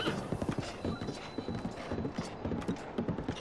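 Horse hooves clip-clopping in a steady galloping rhythm across a bridge in the video game The Legend of Zelda: Breath of the Wild, close and continuous with game music and effects around it.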